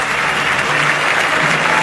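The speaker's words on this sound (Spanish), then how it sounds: "Ustedes escuchen este aplauso." A dense roar of stadium crowd applause at a Colo Colo versus Cobresal football match, loud and sustained like a wash of many hands clapping together, with no one talking over it.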